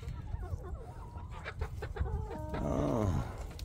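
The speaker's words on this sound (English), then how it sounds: "These are Australop and everything." Australorp chickens cluck and crow in a makeshift backyard coop, several birds close by making overlapping rhythmic calls and a drawn-out crowing note near the end.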